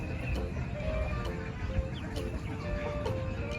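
A chicken clucks repeatedly as it is being caught, its short calls broken and agitated over a dense, noisy background of movement, fairly close by.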